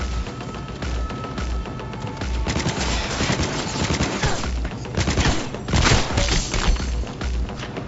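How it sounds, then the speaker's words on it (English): Gunfire from the video game Cyberpunk 2077 erupts as dense, rapid volleys of automatic shots with heavy thuds, continuous and loud across the whole stretch. "Opening fire."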